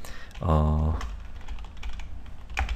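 Faint, scattered key taps on a computer keyboard as a folder name is typed, following a brief voiced hum near the start, all at low level against room noise.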